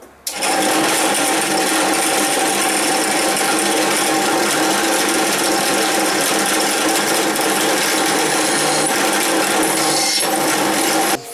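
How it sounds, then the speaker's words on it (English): Steady, continuous power drill whine and grind as rivet holes are bored through forged steel pickup tong halves, close and loud, running unbroken for about ten seconds with no talking. "drill the holes"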